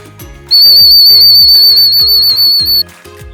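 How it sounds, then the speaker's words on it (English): A dog training whistle for recall gives one long, steady, piercing high blast, close and loud, over rhythmic background knocking. "All right, so we got the whistle."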